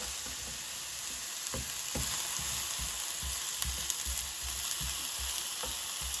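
Pineapple slices frying in a pan over medium heat give a close, continuous sizzle with crackling and occasional soft pops, and no voices.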